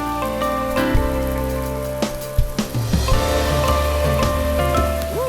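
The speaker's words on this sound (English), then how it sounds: "The rain is super, super heavy again." Heavy rain pours steadily in the wild country of the Savage Gulf, a dense, unbroken hiss of drops on surfaces, loud and close, with no one speaking.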